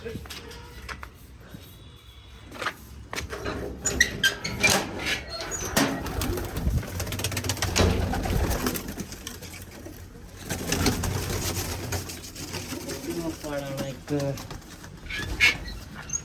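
Soft pigeon coos come and go close by at a home loft, mixed with rustling and occasional wing flutters, while people talk nearby.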